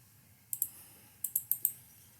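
Sharp mouse-button clicks at a computer while editing presentation slides, a close pair followed by a quick run of four, crisp and near over a quiet room hum.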